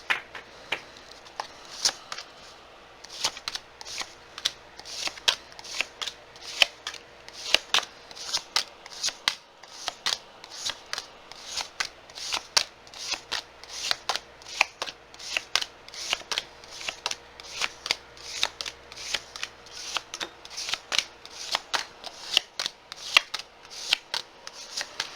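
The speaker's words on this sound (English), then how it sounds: "I know people like to witness the shuffle." Tarot cards are shuffled steadily for a long stretch, a rapid series of crisp riffling snaps and flicks, close up and alone with no talking.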